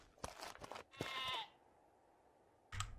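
Lambs bleat in a farm video game, several short, wavering cries in quick succession followed by a longer quavering bleat and a final burst after a quiet pause, fairly close and with no talking over them.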